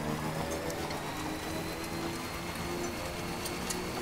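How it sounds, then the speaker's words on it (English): Timefall rain in the video game Death Stranding falls as a steady, even hiss of rain with faint droplet ticks under a low background tone, with no voices. "I should be able to avoid that timefall"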